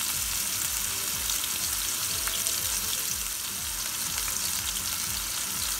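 Fish fillets sizzle and fry steadily in a hot pan, a continuous close crackle with faint stirring or scraping, no voices over it.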